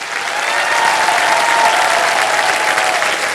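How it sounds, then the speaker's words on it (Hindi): A studio audience at a quiz show applauds a contestant with a dense, steady, loud wash of clapping that holds without a break, with faint voices mixed in. "तालियां बजती रहे मीनल के लिए।"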